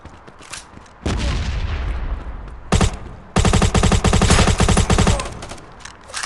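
Gunfire and a grenade blast in the mobile shooter Modern Ops on a bomb factory map, a loud burst opening into sustained rapid automatic fire, a short pause, then dense rattling machine-gun bursts, close and loud without speech.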